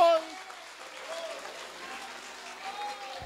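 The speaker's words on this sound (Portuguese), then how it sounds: "Dê uma salva de palmas bem forte" A church congregation applauds in a soft, diffuse patter of clapping and crowd noise. A brief tone sounds at the start and the clapping continues unevenly under faint voices.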